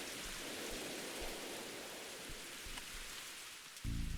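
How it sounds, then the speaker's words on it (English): Loud in-game rain in the horror role-playing game Mothered, a constant, dense hiss of downpour throughout, ending in a brief low thud-like burst near the end. "Depending on how much this incredibly loud rain continues"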